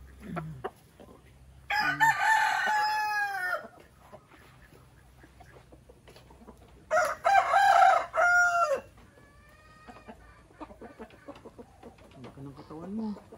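Two loud rooster crows ring out, each a few seconds long, with softer clucking and chirping from hens in between.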